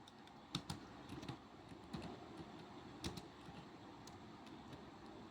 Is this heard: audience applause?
no